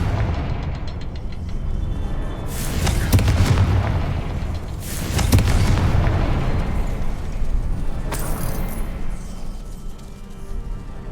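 Explosions from a Confringo blasting spell cast in a wizarding video game, with two heavy booming bursts a couple of seconds apart and a smaller crack later, over a constant low ambient rumble.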